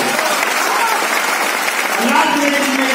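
A hall full of seated people clapping, a loud, continuous wash of many hands close by that holds steady for the full few seconds, with some faint voices mixed in.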